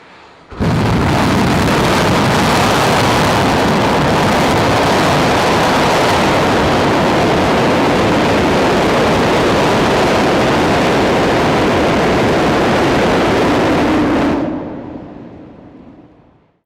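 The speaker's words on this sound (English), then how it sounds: "SpaceX completed a long-duration test, firing of 11 Raptor 2 engines for 13 seconds." SpaceX Starship booster static fire of 11 Raptor 2 engines, an immediate, overwhelming roar that holds at full, constant intensity for about 13 seconds before fading out, heard from a distance with no voices.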